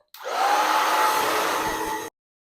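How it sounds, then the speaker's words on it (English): A hair dryer running on medium heat and high power while drying hair, a steady, loud, close whoosh that starts abruptly, holds an even tone for about two seconds and then cuts off into silence. "I use medium heat and high power because my hair doesn't dry on low heat"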